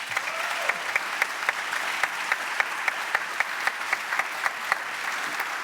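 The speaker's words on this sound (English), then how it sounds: "applause, please." A conference audience at a retail pricing event gives steady, sustained applause, a dense wash of clapping with a few sharper individual claps standing out at a fairly regular rhythm throughout.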